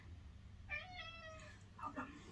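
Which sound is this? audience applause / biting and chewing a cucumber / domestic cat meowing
domestic cat meowing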